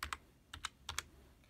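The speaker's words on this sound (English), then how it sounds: "Then you start typing network." Keystrokes on a computer keyboard as a word is typed into the Windows 10 search box: six crisp, close clicks falling in three quick pairs, with no talking.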